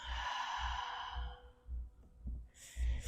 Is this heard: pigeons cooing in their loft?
no